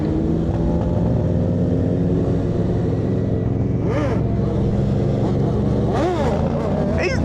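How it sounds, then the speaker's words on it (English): Motorcycle engines on a group ride drone and rev continuously up close, with several rising and falling passes as bikes go by, amid wind rush and a faint voice. "He's been doing burnouts."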